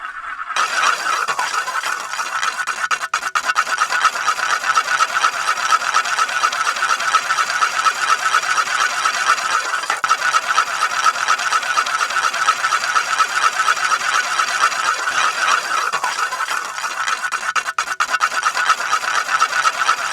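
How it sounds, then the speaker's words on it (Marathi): A motor drives a homemade crab-calling machine, a continuous loud rasping, grinding whir that runs steadily throughout without pause, with no one talking. "तर आहे ना ही मोटर आणि हे यंत्र असंच चालू राहून देऊया."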